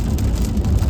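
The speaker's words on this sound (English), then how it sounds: "Here comes the rain." Steady broadband rain drums on a car driving across the New Harbor Bridge during a lightning storm, loud and close with a low road rumble beneath and no voices.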